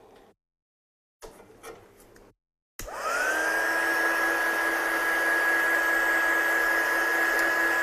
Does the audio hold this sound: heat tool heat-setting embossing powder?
yes